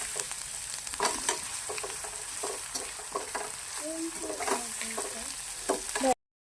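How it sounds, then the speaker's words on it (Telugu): Ginger garlic paste sizzles and fries in a hot pan, with a steady crackling hiss and occasional stirring scrapes, fairly close, without talk, before it cuts to silence at the end. "పచ్చి వాసన పోయేంత వరకు ఫ్రై చేసుకోవాలన్నమాట."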